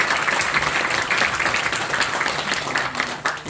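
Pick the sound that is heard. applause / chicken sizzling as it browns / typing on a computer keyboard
applause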